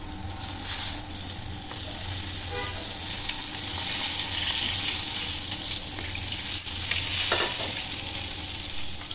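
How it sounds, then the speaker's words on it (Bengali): Three halved boiled eggs fry in hot oil, giving a constant close sizzle and crackle with occasional sharper spits and a brief scrape of a utensil, steady throughout and free of talk. "এখন এই ডিমগুলো তেলে দিয়ে দিব।"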